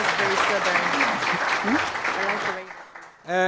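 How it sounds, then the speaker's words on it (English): Audience applause fills a hall after a governance dialogue speech in South Africa, dense steady clapping that fades out, followed by a short burst of music or a tonal sound at the end. "Round of applause, please."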